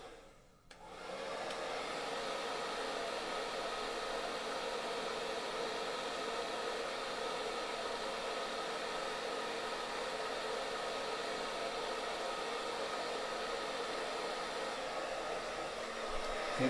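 A hair dryer blow-dries a beard, switching on after a brief moment and then blowing a steady, close, airy whoosh without pause for the rest of the time.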